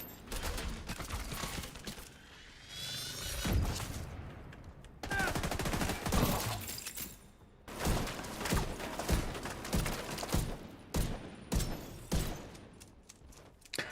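Bursts of gunfire in a shooter video game, sharp shots and short rattling volleys spread across the stretch with brief pauses between them, fairly loud and close.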